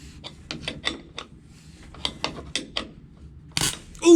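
Wrench clicking and ratcheting against bolts on a 1954 Chevy COE truck, a series of sharp metallic clicks in uneven bursts, fairly close, followed by a louder scrape and clank at the end.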